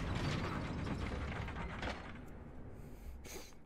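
A lever being pulled in Dark Souls Remastered, a grinding, ratcheting mechanical clatter of gears and chains that runs steadily and then eases off into quieter clunks.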